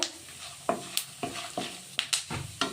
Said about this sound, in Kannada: ಇದೆಲ್ಲ ಚೆನ್ನಾಗಿ ಎಣ್ಣೆಲಿ ಫ್ರೈ ಮಾಡ್ಕೊಳ್ಳೋಣ ಫಸ್ಟು